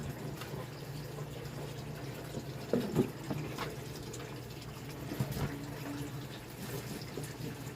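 Steady rain on a wet morning gives a continuous soft hiss, with a few brief clinks and splashes rising above it.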